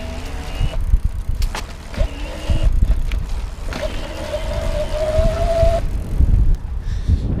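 A BULLS Lacuba EVO E45S e-bike's motor at its highest assist level under fast pedaling gives a steady, rising whine over continuous wind and road rumble, with a faint rattle here and there.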